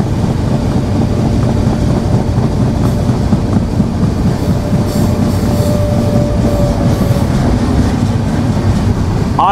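Jahanabad Express rolling through Padmabila Junction in Jessore district, Bangladesh, with a steady loud rumble of wheels on rails, faint clickety-clack and a brief thin squeal midway, continuous throughout with no talk.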